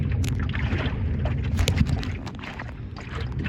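A small sailboat named Flotsam glides under sail with its motor off, wind buffeting the microphone over low rumbling water and hull sounds, with occasional light creaks and flaps.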